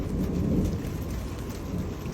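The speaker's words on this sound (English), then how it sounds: "We got hail." Hail and heavy rain batter down during a severe thunderstorm in Timmins, a dense, loud, steady roar of impacts with a low rumble underneath and no talking.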